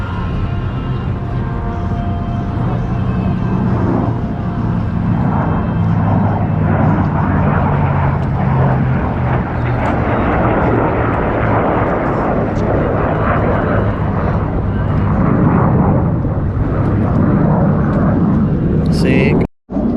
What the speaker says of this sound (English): We got a World War II plane, fighter plane, and an F-35.